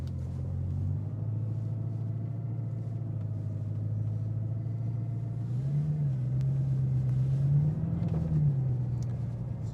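A Bugatti Chiron Sport hypercar pulling away in drive, a steady low engine rumble that swells slightly with mild acceleration, close and continuous with no talking over it.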